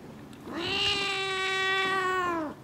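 A frightened kitten cries out in a single long, loud, drawn-out meow that rises and holds steady before trailing off, heard up close with no talking.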